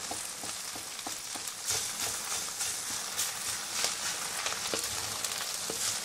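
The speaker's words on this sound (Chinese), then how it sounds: "同埋你要慢慢慢慢炒翻鬆啲飯，一路炒就壓翻碎啲飯啦。" Rice stir-fried with cured Chinese sausage in a wok over medium heat, a steady crackling sizzle broken by repeated light scrapes and taps of the spatula, close and alone.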